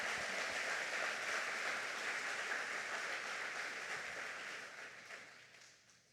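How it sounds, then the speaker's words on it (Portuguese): A church congregation gives sustained applause for Jesus, a dense wash of clapping that holds steady and then gradually fades away near the end. "Pode dar uma salva de palmas para Jesus"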